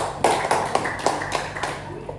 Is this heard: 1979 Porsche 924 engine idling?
no